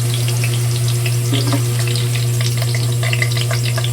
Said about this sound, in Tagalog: Ang po namang carrots ang ipiprito ko.